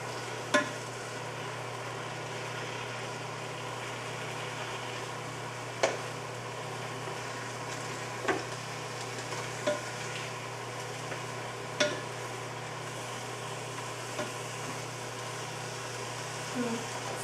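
Ragu ingredients browning in a Ninja Foodi, with a faint, steady sizzle under a low background hum and a few sparse clicks and scrapes from a utensil stirring the pot.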